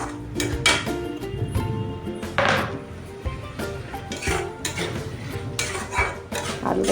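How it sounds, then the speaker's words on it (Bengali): Potatoes stirred and fried in oil in a pan for a fish curry, with a spoon scraping and clinking against the metal pan in continuous busy rhythm, close up and fairly loud. "আলুটাকে ভালোভাবে কষিয়ে নেবো এর সাথে"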